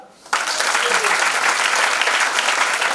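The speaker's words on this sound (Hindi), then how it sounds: "ताली बजाओ जोरदार।" A large seminar audience bursts into loud, sustained applause that starts abruptly and holds as a dense, even wash of clapping hands.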